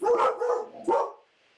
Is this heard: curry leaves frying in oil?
no